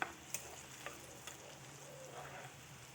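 Garlic frying in oil for mango pickle gives a faint, soft sizzle with a few light ticks and stirring taps near the start, quiet and close, without any talking.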